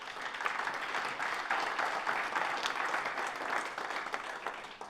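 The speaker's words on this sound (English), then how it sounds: "So a round of applause for our awesome School of 30." Audience applause at a small-business pitch event, steady dense clapping from a crowd throughout.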